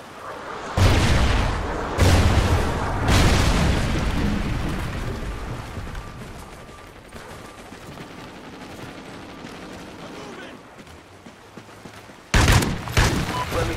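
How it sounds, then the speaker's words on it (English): Trinity rocket explosions in the video game Call of Duty Ghosts, a series of heavy booming blasts with a rumbling, crackling roar that fades, then fresh loud bursts near the end. "Friendly Trinity rocket inbound."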